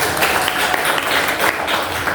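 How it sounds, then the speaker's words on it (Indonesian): Scattered applause from a classroom of pupils for a girl named Rizka, a brief dense patter of many hands clapping at once, moderately loud and without speech. "Tepuk tangan buat Rizka"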